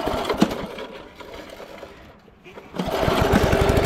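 An early-1980s Snapper self-propelled lawn mower engine runs loud and rough up close, dips briefly, then surges back to a steady clattering roar.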